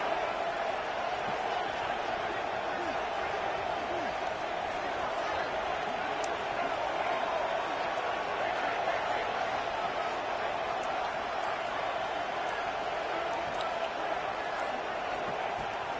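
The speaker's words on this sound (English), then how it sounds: "this crowd is deafening" A loud football stadium crowd roars in a steady, sustained wall of noise throughout, with an announcer talking over it.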